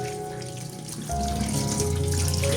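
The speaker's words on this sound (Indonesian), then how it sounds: "Cuci bersih sawi putih, tahu, dan bakso." Tap water runs steadily into a sink while Chinese cabbage, tofu and meatballs are washed, a continuous close gush that gets louder partway through as the flow strengthens.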